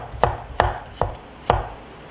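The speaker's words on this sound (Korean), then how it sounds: "이렇게 납작하게 편을 썰어 볼게요" A knife cuts carrot into flat slices on a cutting board, four crisp, evenly spaced chops landing about half a second apart, close and clear with no talk.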